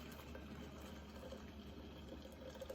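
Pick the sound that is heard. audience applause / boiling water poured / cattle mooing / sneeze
boiling water poured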